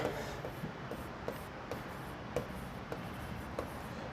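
Pen writing notes during a university physics lecture, steady faint scratching strokes with regular small taps, close and low over a constant background hiss, no talking.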